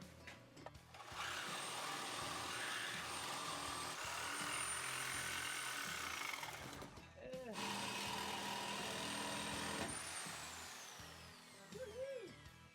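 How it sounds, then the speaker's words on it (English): A Sawzall reciprocating saw cuts through the steel frame of an off-road truck, buzzing loudly in two long sustained runs with a short pause between and rising whine, with a few brief voices near the end. "We're going to be cutting the frame right there. And we're going to be doing that with one of my favorite tools, of course, the Sawzall."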